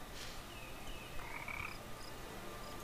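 Frogs croaking in the game Rift, a faint chorus of scattered croaks and chirps repeating over a constant hiss of ambient background, quiet and somewhat distant, with no talking.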